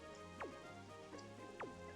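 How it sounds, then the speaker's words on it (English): Rain in a Pokemon video game battle at Poke Cup Stadium, a faint steady patter behind game music, with sweeping synthetic tones recurring over it. "the rain is still coming down hard here at Poke Cup Stadium"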